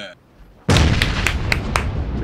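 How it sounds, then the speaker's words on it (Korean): Grenade blast in PUBG (Battlegrounds): a sudden loud boom erupts after a short quiet lead-in, followed by sustained crackling, rumbling debris and sharp gunfire-like pops echoing to the end. "수류탄 제가 수류탄 던졌어요"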